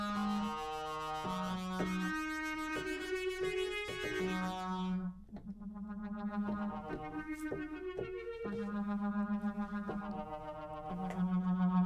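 A Sequential Pro 3 synthesizer with a reverb effect plays a sustained melodic line of held tones that change pitch, with a brief drop in level midway, alone without speech.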